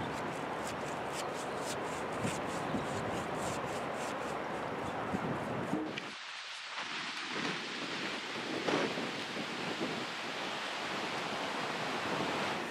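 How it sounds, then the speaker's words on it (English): Loud, roaring broadband noise of strong wind buffeting at a narrowboat, steady at first, then shifting to gusty rushing with rattling flutter, no voices. "It really is very windy."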